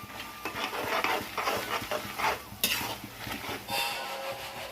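Curry leaves crackle in hot peanut oil during a tempering, a soft sizzle under clinking of a metal spoon against the pan, quiet and close, with irregular scraping strokes.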